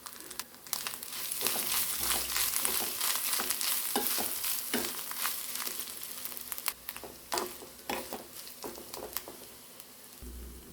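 Diced pineapple and grated coconut stir-frying in a pan for a Kerala pineapple mezhukkuperatty, a steady close sizzle broken by frequent scraping and rustling stirs.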